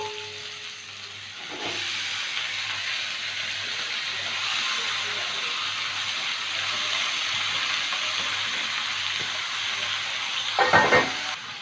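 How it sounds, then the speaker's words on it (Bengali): Boiled chickpeas fry and sizzle in a pan while being stirred for a banana-flower mocha ghonto, a steady close hiss that runs almost the whole time, with a short scrape near the start and a louder clatter of stirring near the end. "আমি সেদ্ধ করা ছোলাটা দিলাম, একটু নেড়ে চেড়ে নেব।"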